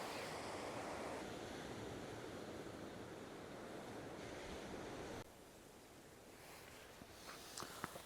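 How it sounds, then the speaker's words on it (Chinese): Sea waves wash onto the rocky shore below a seaside viewing platform in Kenting, at Taiwan's southern tip, a steady loud surf roar that drops a little partway through. Faint wind noise sits on top, and no one speaks. "听一听这海的声音"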